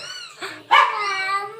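A house cat gives a short soft chirp followed by a louder, drawn-out meow, close by and alone.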